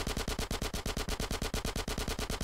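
Rapid automatic gunfire from GTA San Andreas, a fast, even burst of sharp shots repeating for a couple of seconds, fairly quiet and with no voices.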